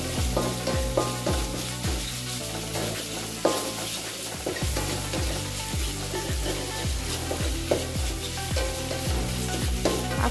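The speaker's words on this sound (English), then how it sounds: "Stir until change the color." Beef sizzles and fries in a pan for mie goreng while being stirred, with steady sizzling under regular scraping stir strokes throughout, close and fairly quiet.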